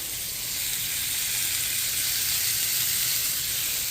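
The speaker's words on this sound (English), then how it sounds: "I start kind of just searing it just a little bit" Small pieces of beef seasoned with salt and pepper sear in a hot pan for an eggplant beef stew, giving a steady, close, fairly loud sizzle that runs on without talk.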